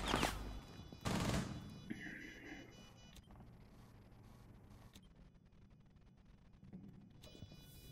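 Shotgun blasts in Rainbow Six Siege: two loud, sharp bursts in quick succession at the start, followed by fainter clicks and scattered gunfire in the quieter background.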